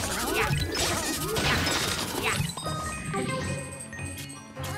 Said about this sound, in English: Okay, the fan's smashed now.